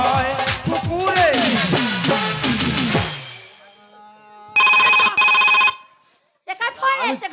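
A phone's ringtone sounds at a village Gajon folk performance, two loud bursts of steady ringing with a short gap between, after lively music and singing and followed by a voice.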